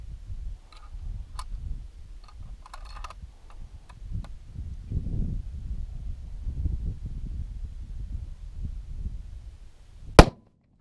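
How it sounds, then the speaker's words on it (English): A single loud, sharp 300 Win Mag rifle shot firing a Federal 180 grain bullet, with a KDE Customs T-REC muzzle brake fitted, near the end after a stretch of low rumbling background and small clicks. "We'll be shooting a Federal 180 grain bullet"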